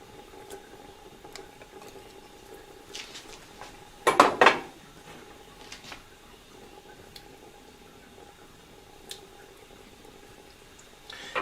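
Kunna meat is being mixed with garlic and ginger paste in a pot, with a short burst of spoon clatter and scraping in the middle and a few scattered light clinks, otherwise quiet.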